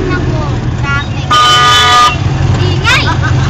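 Car horns honking in city traffic, one long loud blast in the middle with a shorter toot near the end, over road rumble and nearby talk.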